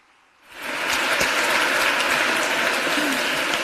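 After an award speech at the Pamplona prize ceremony, an audience bursts into dense, loud applause that swells within half a second and holds steady.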